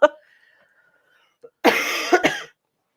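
A single short, dry cough up front, then after a pause a longer harsh burst of coughing and throat noise, close and loud.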